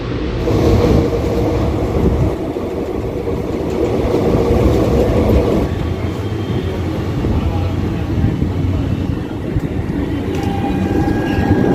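A 13031 Jaynagar Express passenger train between Howrah and Bandel rumbles loudly and continuously from inside a carriage, with a deep rolling roar and rattling that ease off slightly partway through as it arrives at Chandannagar.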